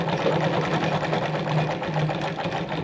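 A Singer sewing machine (model 306K, 319K or 306M) stitches a buttonhole in a steady, continuous mechanical whir with a rapid needle rhythm, loud and close, running without pause.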